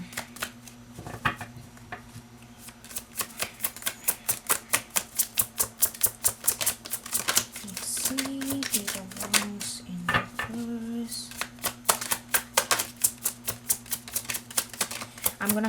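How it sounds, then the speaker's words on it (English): A steady run of crisp, rapid clicking taps as tarot cards are shuffled over and over, close by, with a low hum underneath. "I'm gonna shuffle one more time."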